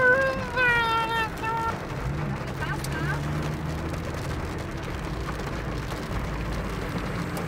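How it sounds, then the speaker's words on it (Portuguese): Rain falls steadily with a constant broadband wash, heard from near a home on a wet day. A voice speaks briefly at the start, then the rain continues on its own. "Olha a chuva."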